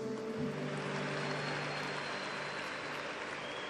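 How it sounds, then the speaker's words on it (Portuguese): A church congregation claps in steady, dense applause that fills the room evenly from start to finish, heard from some distance as a continuous wash of hand claps. "Se é para Jesus, pode ser mais forte o seu aplauso."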